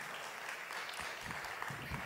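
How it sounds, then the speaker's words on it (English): A crowd applauds the hosts at a Connecticut business gathering held at Mohegan, a steady, fairly faint wash of many hands clapping throughout. "A nice round of applause for the folks at Mohegan."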